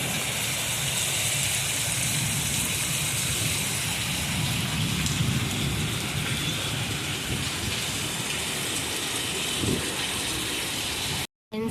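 Heavy nighttime rain roars steadily close by, a thick unbroken wash of falling water, with a low rumble that fits distant thunder rolling beneath it before the sound cuts out briefly near the end.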